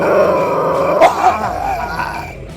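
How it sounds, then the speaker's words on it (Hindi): A dog growling in an audio story, a close, loud, rumbling snarl that swells and breaks into short gruff bursts over a couple of seconds, with no speech. "राका, मेरी हिफाजत कर, ये कुत्ता मुझे मार डालेगा।"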